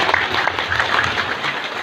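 Brief applause from an audience for santri students at a religious study gathering on Sufism, a short burst of clapping with a low murmur of voices beneath it.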